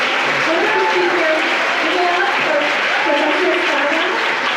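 An audience at a college honors plenary gives sustained applause for a visiting poet, a loud, even roar of clapping with voices and faint tonal sounds mixed in throughout.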